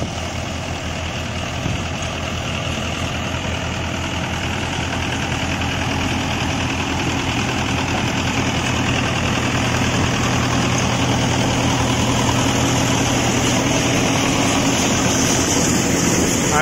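A tractor engine runs steadily on a farm during coriander harvesting, a continuous loud rumbling drone with even vibration that holds throughout, with no talking.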